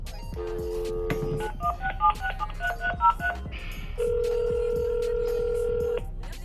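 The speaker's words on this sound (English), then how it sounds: "My husband's phone trying to hang up." A phone hanging up plays a short run of telephone signal tones: a held tone, a quick series of keypad-like beeps, then a longer steady tone, clear and close with no talking over them.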